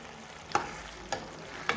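A peas and spinach curry cooks quietly in a pan, giving off a low, steady sizzle. Three sharp clinks of a spoon or lid land about half a second apart over the soft bubbling.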